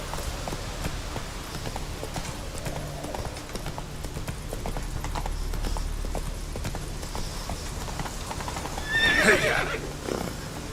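Roach the horse in Witcher 3 clip-clops along at a steady gait, then lets out a loud, bright whinny near the end, with faint speech in the background.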